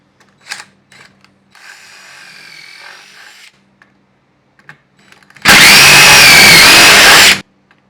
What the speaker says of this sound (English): Drill the holes.